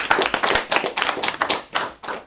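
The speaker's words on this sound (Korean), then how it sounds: "우리 하나님께 영광의 박수 돌려드리겠습니다." Church congregation clapping together during a Sunday service, loud rhythmic bursts of hand claps in several waves with brief pauses between, close and unaccompanied by talk.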